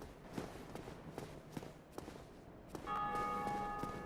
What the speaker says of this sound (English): That's a bell sounding, meaning somebody defeated the gargoyles